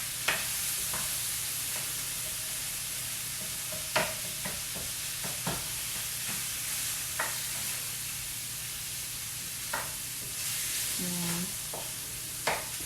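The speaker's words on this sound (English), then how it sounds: "It already smells good, that garlic, I think. So we're cooking that up." Garlic fries in a pan on a semi-broken home stove. A soft, steady sizzle runs throughout, with occasional sharp utensil clicks and scrapes against the pan.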